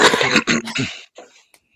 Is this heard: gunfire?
no